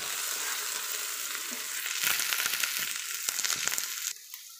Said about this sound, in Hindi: अब इसमें हम डालेंगे थोड़ा सा अदरक और इसे भी 2 मिनट भूनेंगे